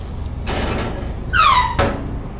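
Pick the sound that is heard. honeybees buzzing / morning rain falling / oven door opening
oven door opening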